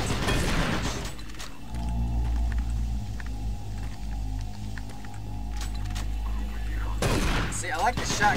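Shotgun blasts in Doom 3 BFG, a heavy boom at the start and another near the end, with a low rumbling ambience between them.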